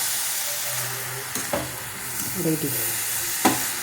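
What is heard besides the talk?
stirring radish ghonto with garam masala in a pan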